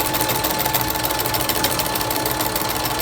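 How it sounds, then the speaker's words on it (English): A sewing machine back-stitches elastic onto a fabric face mask, running in a loud, continuous rapid mechanical whir with steady needle chatter, close up and without speech. "Definitely need the back stitch on this one to secure the elastic."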